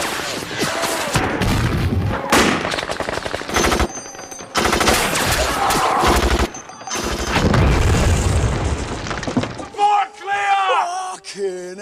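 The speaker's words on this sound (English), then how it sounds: "gunfire erupts, chaos explodes across the base" Gunfire and explosions from the zombie film 28 Days Later, set on a military base: loud rapid bursts and heavy booms come in several blasts separated by brief pauses, then give way to shouting voices at the end.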